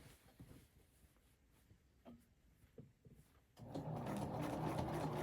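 A sewing machine runs a straight stitch along the edge of a crochet patch, a steady, close whirring hum starting after a few soft handling clicks and continuing to the end.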